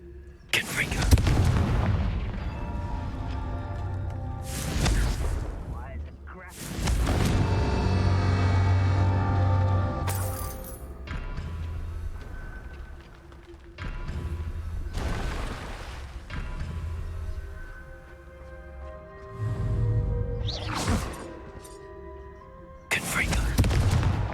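Confringo fire-blast spells detonating in Hogwarts Legacy, a series of loud booming explosions in bursts with rumbling tails, mixed with game effects and a voice calling out between blasts.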